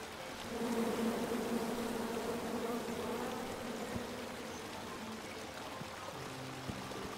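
Bees drone in a continuous buzzing swarm in the Kong's Quest video game, a steady hum filling the scene without pause for several seconds.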